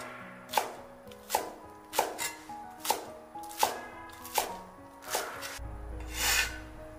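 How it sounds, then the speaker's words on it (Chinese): A kitchen knife chops scallion whites into short pieces on a cutting board, about nine evenly spaced crisp knocks in a steady rhythm, close and clear with no talk. "葱白给它切成小段"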